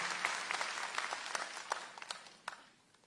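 Audience applause at a government teachers' appointment ceremony in Dehradun, a short burst of many hands clapping in a hall that fades out over about three seconds, with faint voices beneath.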